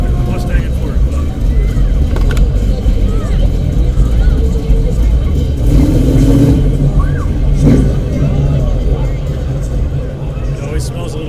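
Old Ford Mustangs from a Mustang and Ford club rolling by in a St. Patrick's Day parade, a loud steady engine rumble with crowd babble and people talking over it throughout.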